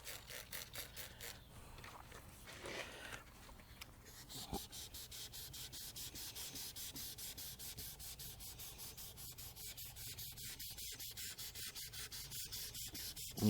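1000 grit sandpaper wet sands a Camaro ZL1 bumper in steady, close back-and-forth rubbing strokes with a quick, even rhythm throughout.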